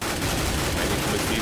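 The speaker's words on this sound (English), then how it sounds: "Got the wall bangs coming in." Wall-bang gunfire in Counter-Strike on de_cache during a Denial vs Mythic tournament match, a dense continuous barrage of loud rapid shots with no gaps across the whole moment.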